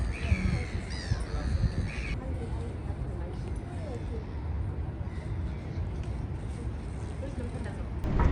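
Crows caw harshly in a short run of calls near the Cape Town harbour, then fade under steady outdoor rumble and wind while a person talks nearby.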